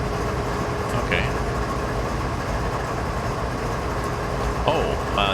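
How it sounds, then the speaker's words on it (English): Train rumbling past in Train Simulator 2020 on a Canadian mountain route, a steady low roar throughout with brief high squeals and clatter near the middle and end, continuous and moderately close. "Oh, that's the train that just went."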